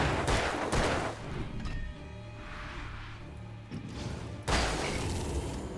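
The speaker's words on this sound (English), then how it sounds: "so 6 shots" A rapid burst of gunfire from Alan Wake, several sharp shots cracking close and loud at the start, then a muffled rumbling lull before another heavy blast near the end.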